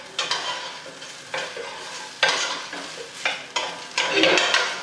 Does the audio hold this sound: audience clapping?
no